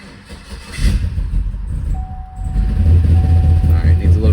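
A 2019 Chevrolet Silverado drag-week build cranks and fires up in a cool shop, its engine settling into a loud, rough idle with a low rumble, a steady whine running through it.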